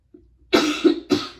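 Hoarse throat-clearing and coughing, two harsh, close bursts following a faint throaty sound, loud and dry with no speech.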